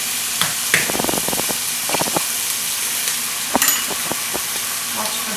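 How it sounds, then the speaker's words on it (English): Egg sizzling as it hits a hot wok while making pad see ew, a steady hiss of frying broken by sharp clusters of spatula scrapes and taps against the pan. "And then you want to go in with the egg."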